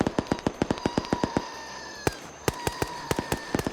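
Rapid gunfire in a video game crackles in fast bursts of sharp shots, with a brief pause in the middle before more scattered and rapid shots, loud and close.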